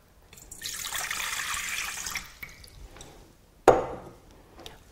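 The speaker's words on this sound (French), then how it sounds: "Je verse dans l'ordre, dans la cuve de mon robot, les liquides," Water poured from above into the bowl of a kitchen food processor, a steady broad splashing stream for about two seconds that tapers off, followed by a few fainter knocks and a sharp clatter.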